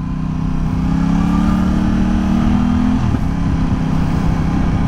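Aprilia Tuono 660 motorcycle engine droning steadily while riding on a road, a loud close hum with a slight pitch rise and a brief dip, mixed with wind noise.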